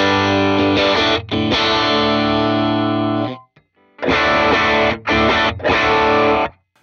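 PRS SE Starla electric guitar on its split bridge pickup, with a bright, snappy single-coil tone and slight grit, strummed chords ringing out loudly, pausing briefly before several more short bursts.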